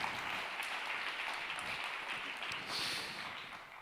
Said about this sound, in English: I want to give a round of applause to Vicky for a great session.